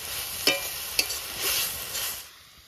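Green chillies dropped into a pan of frying greens seasoned with salt and turmeric, giving a steady close sizzle broken by a few sharp clinks and scrapes of stirring.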